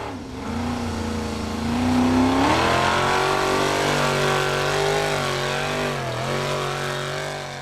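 Formula offroad car named Snow White, driven by Davíð Logi Ingvarsson at Egilsstadir, Iceland, revs hard and continuously as it struggles for traction, its loud engine pitch climbing, dipping and surging again throughout.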